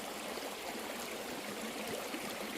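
Water rushes steadily in a stream near a wild camp at Innerwick Castle, Scotland, a constant hissing flow at even volume, heard alone without speech.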